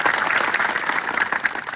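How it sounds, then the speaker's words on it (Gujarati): A rally crowd claps loudly for village sarpanches, dense overlapping applause sustained throughout at close range. "એમના માટે જોરદાર એકવાર તાળીઓ પાડતો"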